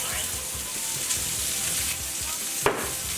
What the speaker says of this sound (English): That nice sizzle.